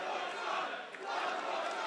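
Large wrestling crowd at the Adelaide Oval in South Australia cheering and roaring, a loud continuous wall of voices with a brief dip near the middle, heard from within the stands.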